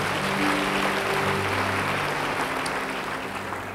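Church congregation applauding during a sermon, a dense, steady wash of clapping that fills the room from start to finish, with a low sustained organ or keyboard tone beneath it, fading slightly toward the end.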